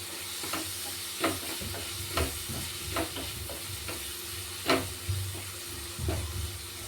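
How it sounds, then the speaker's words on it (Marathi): Cluster beans fry with salt in a pan, a continuous close sizzle punctuated by regular spatula scrapes and knocks roughly every second, with no voices. "याला चांगलं फ्राय करून घ्यायचं"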